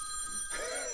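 A mobile phone ringing unexpectedly, a steady electronic ringtone with sustained tones that turns brighter and fuller halfway through, moderately loud and alone.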